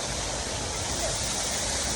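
Broadband rushing water from a river flows steadily and fairly close, a continuous even wash with no clear voices over it.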